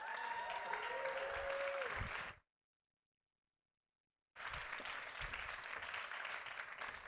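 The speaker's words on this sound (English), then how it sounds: "So let's give him a huge round of applause" Audience applause welcoming a storyteller to the stage at a Moth-guided storytelling event: sustained crowd clapping that breaks off for a silent gap, then resumes just as full.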